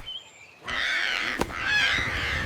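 A bird squawks harshly, crow-like, in repeated loud raspy calls with a sharp click between them, nearby and alone.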